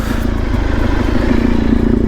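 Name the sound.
Honda VFR400R NC30 motorcycle engine idling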